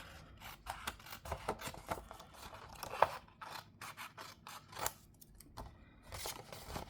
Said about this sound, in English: I'm going to cut out this piece here